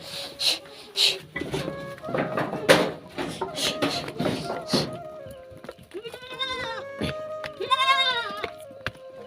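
Goats bleat several times close by on a farm, with a cluster of wavering, overlapping calls in the second half, while people talk and other farmyard noises break in earlier.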